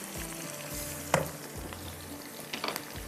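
Chicken and curry leaves frying in oil in a pot, a soft continuous sizzle with a couple of brief clinks and stirring scrapes, close but fairly quiet and without speech.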